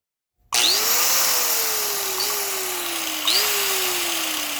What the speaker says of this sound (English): I'm always in control of this grinder, and the grinder's not in control of me